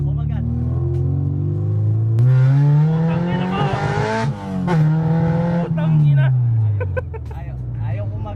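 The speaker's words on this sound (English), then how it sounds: "Bibigyan tayo ng Vtec ni Pops" A 2000 Honda Civic SiR with a B20 VTEC engine revs hard, its loud engine note climbing, falling and climbing again as VTEC engages, while people talk excitedly over it.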